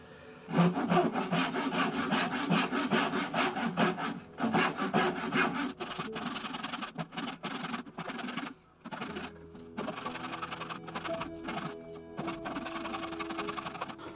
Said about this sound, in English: A nice fine toothed saw is actually very good for this